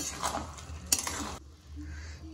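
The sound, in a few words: stirring carrot halwa in a pan to melt sugar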